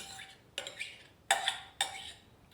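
A tuna and broccoli pie mixture tipped into a buttered pot gives three or four soft, close clinks and scrapes of a utensil against metal, separated by brief pauses.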